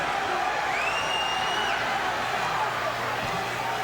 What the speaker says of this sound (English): all these fans are on their feet cheering for Ricky the Dragon Steamboat